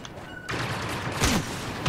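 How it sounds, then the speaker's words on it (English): Laser blaster fire from the Star Wars Battlefront video game comes as a short volley of sharp shots and a descending zap, layered over busy battle noise. "Nowhere better to shoot someone with a laser."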